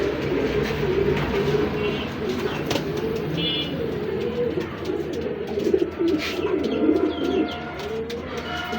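Local pigeons, a pair including a 2023 hen, coo in a low, continuous murmur that fills the space, with a few faint chirps above.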